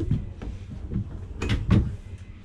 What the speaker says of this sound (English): Just really nice, nice drawers. Ooh, nice sliding.